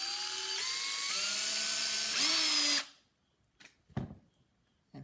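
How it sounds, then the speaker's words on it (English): A power drill whirs steadily as it bores a hole through crossed-over leather on a homemade spear, its pitch rising slightly before it cuts off, followed by a few faint knocks. "So drill a hole right where the leather crosses over."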